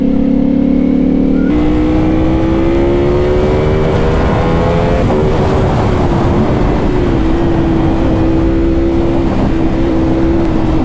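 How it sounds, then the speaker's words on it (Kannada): A V4R motorcycle with a V4 engine being ridden, its loud engine note holding steady, then rising and settling again as the rider changes speed, close and continuous without speech. "ಇದ್ರ ಸೌಂಡೇ ಒಂಥರ ಬೇರೆ ಇದೆ."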